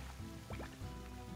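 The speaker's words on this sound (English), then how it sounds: "So this will allow us to fill up a water tank" Water filling a tank in the video game Slime Rancher, a soft bubbly gurgle with a few quick rising drip-like blips, faint and continuous over a low background hum.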